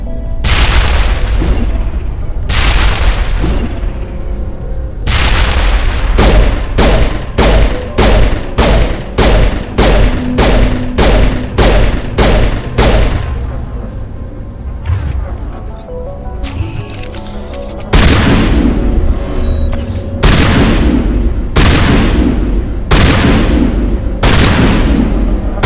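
In the Mass Effect video game, loud grenade blasts and sustained bursts of automatic gunfire crack in rapid, rhythmic volleys, with a brief lull midway before heavy firing resumes.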